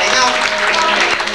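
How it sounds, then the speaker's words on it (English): Applause from guests at a 25th wedding anniversary party in 1989 rolls steadily through the whole moment, a dense wash of hand claps with voices mixed in. "Give them a nice big round of applause."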